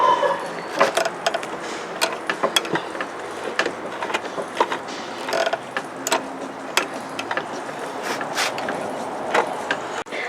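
A powerful sewing machine works slowly through a thick jeans hem at a bulky corner intersection, giving close, irregular mechanical clicks and knocks as the needle is eased over the bump, with no talk.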